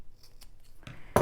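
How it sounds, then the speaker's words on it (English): Scissors snip through a small fabric strip meant for a bag's D-ring tab, with soft rustling handling and then one crisp, close cut at the end. "you can just cut this in half"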